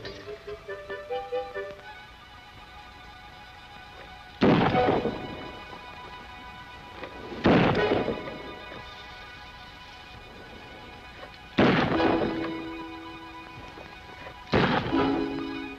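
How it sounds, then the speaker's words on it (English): Four sharp pistol shots crack out one by one at target practice on pine cones hung outdoors, each a loud isolated report spaced a few seconds apart, with a short bit of background music before the first. "There, while I'm frying the flapjacks, you get in some pistol practice."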